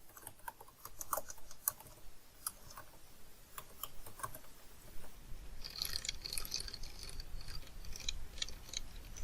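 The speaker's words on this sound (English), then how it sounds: "fill up the form for my customer by easily typing in the required data" Keystrokes on a computer keyboard while filling in a PDF form, an uneven run of light clicks and taps close by with a few busier bursts, no voices.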